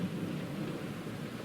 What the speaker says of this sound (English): The rain was really pelling down